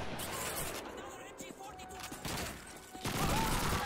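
Rapid bursts of gunfire from Call of Duty 2 on Xbox 360 rattle at moderate loudness amid game noise, with talking over the top.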